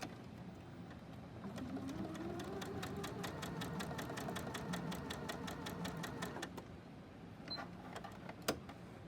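A sewing machine stitches a quarter-inch seam joining pieces of a mitten, a steady rapid mechanical whir with even needle ticks running for several seconds, then a couple of sharp clicks as it stops.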